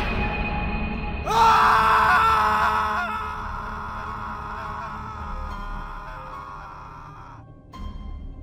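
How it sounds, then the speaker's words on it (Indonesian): A man screams in fear as a horror story sound effect. A long, loud, wavering cry rises sharply, holds for several seconds, then trails off into a fading moan, with no talk over it. "yang membuatnya berteriak ketakutan"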